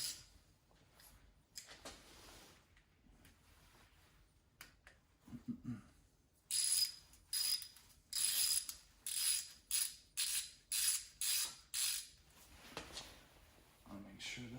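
A ratchet tightens bolts on an LS engine's timing cover, giving about ten quick rhythmic bursts of close, loud clicking after a stretch of quieter handling noises.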